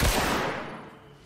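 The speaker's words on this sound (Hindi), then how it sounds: "तभी गोली चली" A single gunshot in a dramatized Hindi horror audio story: one loud, close blast at the start with a booming low end, followed by a fading echo that dies away over about a second.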